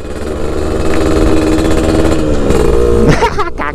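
A Yamaha ZR motorcycle engine revs loudly up close, a steady throaty drone that rises slightly before a brief break near the end, with no talk over it.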